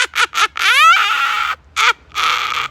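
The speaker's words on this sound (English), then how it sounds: "two black ravens swooped low over their heads" Ravens give a series of harsh, close caws, a few short croaks followed by longer rasping calls, loud and clear with brief pauses between them.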